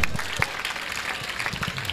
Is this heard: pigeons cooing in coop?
no